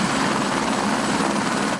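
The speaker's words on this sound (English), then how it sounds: "Several helicopters collected water in buckets that hold up to 400 gallons and have been dumping it on the fire" Firefighting helicopters hover at a wildfire helibase southwest of Dillon, their rotors and engines making a loud, steady, close throbbing roar that fills the air, ending abruptly.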